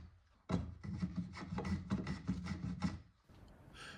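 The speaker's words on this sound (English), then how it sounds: "When the glue has dried, I plane the wood to its final shape." Hand plane shaping wood on a vintage painted writing desk after glue-up: a quick series of about eight close, rhythmic rasping strokes, then a pause with faint shuffling.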